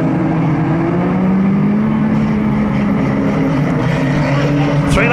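Micro banger race cars race around the Kings Lynn oval track, a loud continuous engine drone with rising and falling revs close by, while an announcer talks over it.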